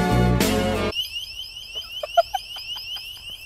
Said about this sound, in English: I just set off the alarm for that door.